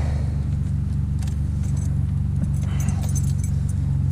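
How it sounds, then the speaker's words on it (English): Keys jangle and clink continuously near the microphone, the search for the right key for a classic car in upstate New York, over a steady low engine-like rumble. "Now, of course, which key is the car key?"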